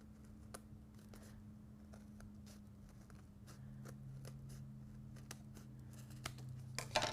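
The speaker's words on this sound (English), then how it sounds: "we're just going to take our scissors and cut this off" Scissors cutting paper for a homemade sign, faint scattered snips and crisp clicks over a low steady hum, quiet and close with no talking.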